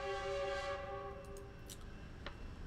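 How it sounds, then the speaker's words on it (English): A train passes at a road intersection railroad crossing, its horn sounding in several steady blasts before fading into rumbling rail noise with brief clicks, fairly distant and alone. "I'll let the train pass."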